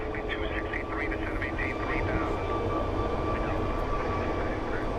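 An airplane at Phoenix Sky Harbor International Airport roars steadily at moderate distance, a continuous engine drone holding even loudness throughout.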